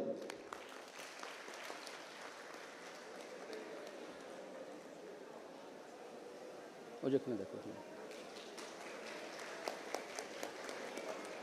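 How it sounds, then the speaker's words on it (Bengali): Audience applause at a community awards ceremony where crests are presented to advisers, officials and guests, a steady wash of clapping that runs throughout, swelling slightly near the end, with a brief louder burst midway. "আমরা একটু করতালি দিই সবাই।"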